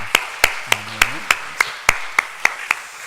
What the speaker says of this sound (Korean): 우리 격려의 박수 하시겠습니다.